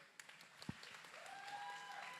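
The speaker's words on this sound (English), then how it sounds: "Please put your hands together for them." A youth day event crowd begins clapping as prize presenters are welcomed, faint scattered claps at first building into steadier applause, with a sustained tone sounding underneath.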